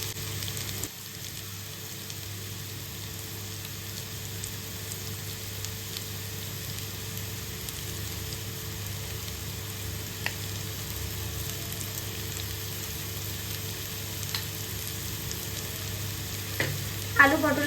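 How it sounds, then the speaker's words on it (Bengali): Potato and pointed gourd curry frying in a pan as cumin paste is stirred in, giving a steady low sizzle with faint stirring scrapes, ending with a couple of louder clinks near the close. "আলু পটলের সাথে জিরে বাটাটা একটু মিক্সড করে দেব।"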